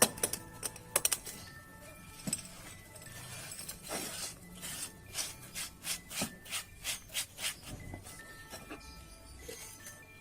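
Yeast is crushed by hand while preparing homemade liquid organic fertilizer, giving quiet gritty rubbing and scraping followed by a regular series of short crunching strokes, close and faint with no talk.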